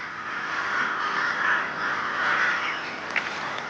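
Several crows caw in a noisy, overlapping chorus, harsh repeated calls rising and falling at moderate distance during a confrontation with a golden eagle.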